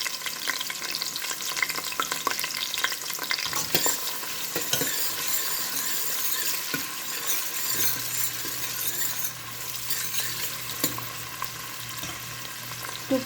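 Five or six small onions frying for chicken kurma, a steady broadband sizzle throughout with occasional stirring scrapes and a low hum entering midway, no talking.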